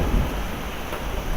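Deep thunder rumbles on through a severe thunderstorm with heavy rain and hail, a steady broadband roar with no voices over it.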